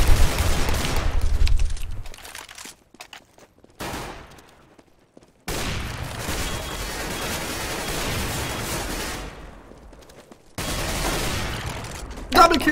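Loud gunshots and rapid bursts of fire in CS:GO, coming in clusters separated by brief quiet gaps, with talk mixed in.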